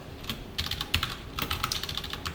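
Rapid bursts of keystrokes on a computer keyboard while Python code is being typed, close and crisp, with a brief pause between two flurries and no talking.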